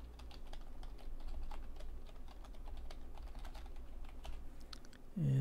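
Quiet, steady typing of login credentials on a computer keyboard during a SolusOS Linux desktop session, a run of rapid soft key clicks continuing for several seconds before a louder thump at the end.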